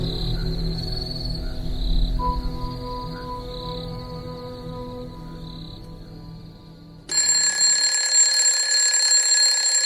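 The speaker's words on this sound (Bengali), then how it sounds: "ভোর 5টায় অ্যালার্ম বাজলে যথারীতি" An alarm clock rings at dawn as a story sound effect: a steady electronic beeping tone pulses over a low drone, then after a few seconds it gives way to a louder, brighter, continuous shrill ringing.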